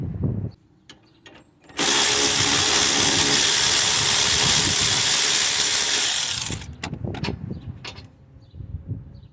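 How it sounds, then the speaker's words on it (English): A metal brush, apparently power-driven, scrubs a rear brake caliper on a Honda Odyssey: one loud, steady, harsh burst lasting about five seconds, with quieter handling noises before and after. "Then I'm gonna clean this with a metal brush."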